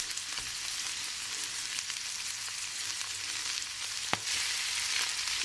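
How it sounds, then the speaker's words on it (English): Satay chicken stir fries with chili and garlic in a hot pan, giving a soft, continuous sizzle with a brief clink of the utensil near the end. "Just need to stir fry."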